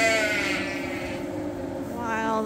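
Sheep bleating on a farm, a close, loud wavering call that rises again near the end over a low background murmur.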